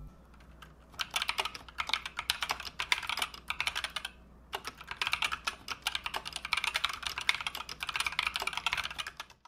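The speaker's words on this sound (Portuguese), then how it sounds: "vamos também ouvir um pequeno sound test destes switches neste teclado." Mechanical keyboard switches typed on steadily in two bursts separated by a short pause, giving dense, close, crisp clacking with no talk.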